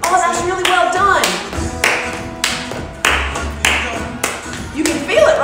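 Children stomping their feet and clapping their hands in a repeated pattern, with sung or spoken voices over the rhythmic taps and claps.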